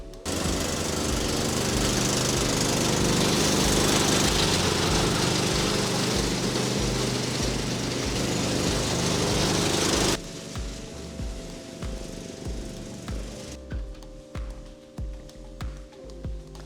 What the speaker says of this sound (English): Let's rip it around the yard and mow some grass.